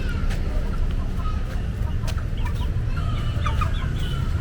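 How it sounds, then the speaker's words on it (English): Bald-headed chickens cluck and call in a busy flock near a palace museum in Yogyakarta, Indonesia, with sharp clucks over a constant loud background rumble. "Wow, look at those ball-headed chicken."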